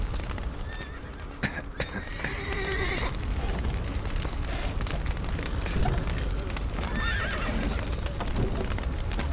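Panicked horses whinny repeatedly over a dense, roaring backdrop of fire and rumbling chaos in The Witcher 3, with several shrill neighs cutting through the din.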